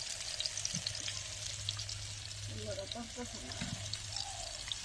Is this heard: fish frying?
yes